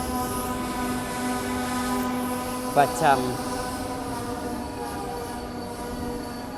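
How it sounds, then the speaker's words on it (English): A train pulls into a station with a steady rumbling roll and a sustained tonal hum, broken by a couple of sharp metallic wheel squeals near the middle, while a voice briefly speaks. "There's a train coming in."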